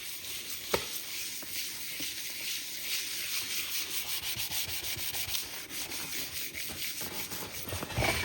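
Fine 2000 grit sandpaper rubbing over a Cub Cadet hubcap, a steady close hiss of scraping strokes with a couple of sharper scuffs, no voices.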